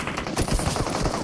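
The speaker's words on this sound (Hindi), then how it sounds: "एकदम गलत ही अंधाधुंध फायर आता है मेरे ऊपर" Rapid automatic gunfire in the BGMI battle royale game, a dense burst of repeated shots across about a second, loud and close with no voices.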